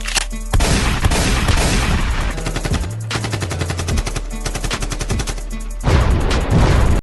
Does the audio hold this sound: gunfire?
yes